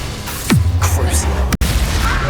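A Bombarda blasting spell explodes in Hogwarts Legacy with a deep booming blast under a voice casting spells, followed by a sharp crack and rumbling game ambience.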